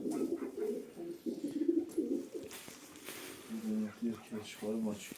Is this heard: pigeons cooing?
yes